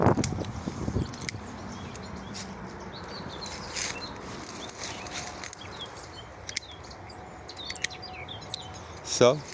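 Birds chirp in scattered short calls against a quiet outdoor background, with a brief rustle at the start and a louder chirp near the end.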